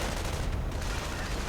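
Muffled artillery fire and rattling gunfire in a WWII real-time strategy game battle, a low continuous rumble of distant blasts and shots with no clear individual impacts.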